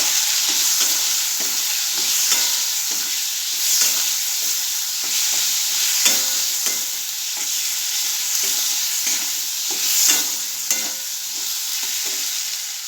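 Potato curry with salt sizzling in a pan as it is sautéed, a continuous frying hiss broken by regular scraping strokes of a spatula, close and fairly loud.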